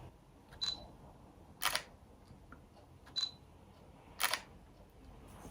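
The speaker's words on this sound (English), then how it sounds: "But we don't want to cheat, so let's put it on mechanical shutter." A Fujifilm camera's mechanical shutter fires twice in a quiet room, each release a soft paired click, first a faint tick and then a sharper snap, separated by near silence.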